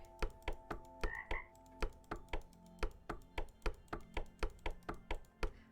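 Frogs croak in the video game Delete After Reading, giving a steady, evenly spaced run of short, clear croaks about twice a second, with no talking.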